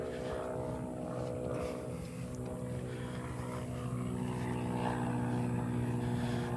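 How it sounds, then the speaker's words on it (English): A steady airplane propeller drone hangs in the air over Delnor-Wiggins beach throughout, a low engine hum with bands of harmonics, consistent and moderately distant, with no voices. "hear that plane? This plane goes by every morning at the same time."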